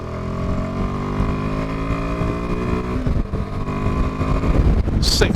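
A Royal Enfield Himalayan 450 motorcycle accelerates in third gear from about 30 mph. The loud, close engine note climbs steadily under constant wind rush, with a sharp gust of wind near the end.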